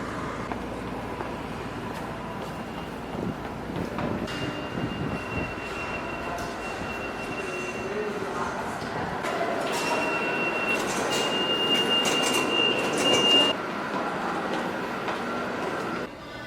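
A subway train roars through a dank, hot tunnel, loud and close throughout, with a rising rumble and a sustained high wheel squeal near the end.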